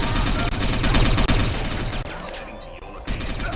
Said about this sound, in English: My guys are shooting back.